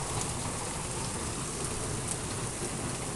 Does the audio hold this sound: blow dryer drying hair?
no